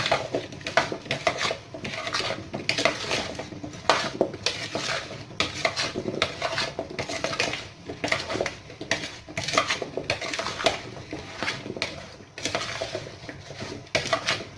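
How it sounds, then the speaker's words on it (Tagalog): Roasted potatoes and spinach seasoned with powdered pepper are stirred in a pan, making a steady run of scraping, clinking utensil-on-metal sounds. The noise is close and continuous, with no talking. "We will mix it nicely."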